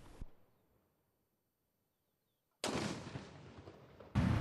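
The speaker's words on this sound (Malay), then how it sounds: "17 das tembakan meriam dilepaskan sebagai menandakan akad nikah diraja telah sempurna" A ceremonial cannon salute marks the completion of a royal wedding solemnisation: a sharp blast, a long silent gap, then a loud booming burst with a rumbling tail and another close, heavy report at the end.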